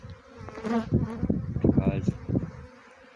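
Buzzing of a honey bee swarm, a dense insect drone running through the clip, with someone talking over it close by.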